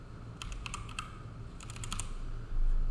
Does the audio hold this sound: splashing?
no